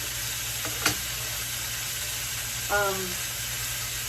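Chicken breast searing in a hot pan gives a steady, loud sizzle throughout, with a brief clack near the start and a short tonal scrape later, as if the piece is flipped.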